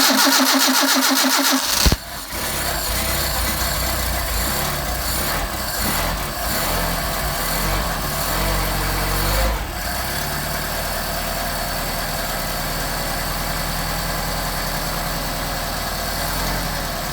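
A car engine with 44PHH Solex carburetors cold-starts with the choke on, cranking briefly before catching, then settles into a steady, loud idle up close, with a slight change in tone partway through and no talk.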